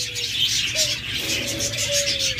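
Pet cage doves, a pair of birds being sold, call softly with drawn-out tonal coos and chirps over steady background noise, no talk heard.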